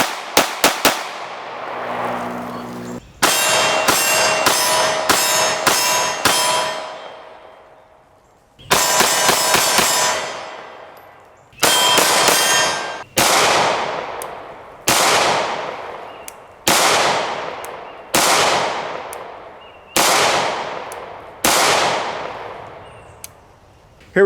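A CZ-75 pistol fitted with Truglo TFX sights fires Federal American Eagle 115-grain jacketed hollow points, a string of sharp, loud, evenly spaced shots, each ringing out with a decaying echo, close by and with no talking.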